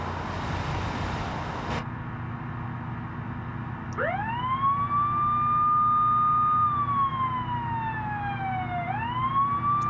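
A video game police siren starts up after a loud burst, rising and holding a steady wail, then dipping and climbing again over a continuous engine roar from a 1984 Bruckell Legran 4.4L car.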